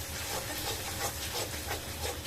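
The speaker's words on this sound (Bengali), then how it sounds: "মশলাটা ভালো করে কষাইতে হবে।" Spice paste with cashews, pistachios and coconut paste frying in a pan, a steady, fairly quiet hiss of sizzling that swells slightly in soft pulses as it cooks.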